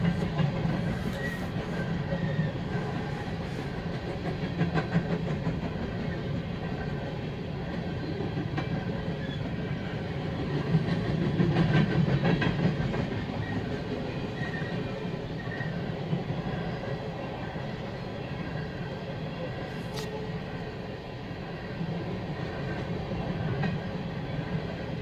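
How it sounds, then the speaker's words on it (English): A long BNSF freight train, with a Canadian Pacific engine on the end, rolls past with a continuous heavy rumble and rhythmic rail clatter, swelling midway and occasionally squealing. "believe this is the train coming back from Superior."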